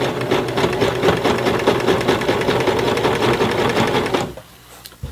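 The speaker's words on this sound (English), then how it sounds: "when you're sewing these jeans on these home machines, don't go too fast" An entry-level home sewing machine hems thick denim jeans, its needle motor running in a steady, loud, rapid rhythm for about four seconds before stopping abruptly, leaving near silence.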